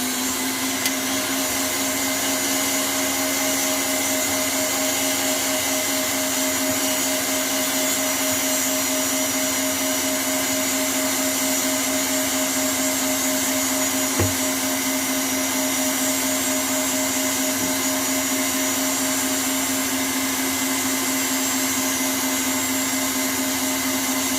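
An electric mixer whirs steadily through angel food cake batter, a loud, continuous motor drone with no talking.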